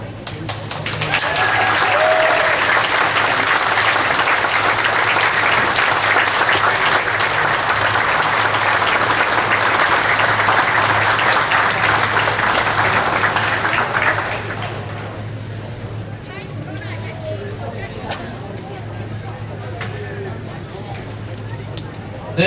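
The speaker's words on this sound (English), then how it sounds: "Can we just give him another round of applause, please?" A festival crowd applauds Governor Evers at the Hmong Wausau Festival, a dense, loud wash of clapping that holds steady for about fourteen seconds, then drops to a lower murmur of crowd noise.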